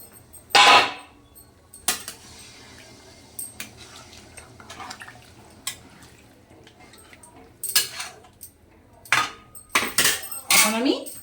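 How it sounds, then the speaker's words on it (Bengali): A metal lid clatters onto a pot of mutton curry with potatoes and turnips, sharp clanks of pots and utensils coming in bursts between quieter stretches, close by, with a little speech. "এখন আমি এই আলু আর শালগম সেদ্ধ হওয়ার জন্য ঢাকা দিয়ে দিচ্ছি"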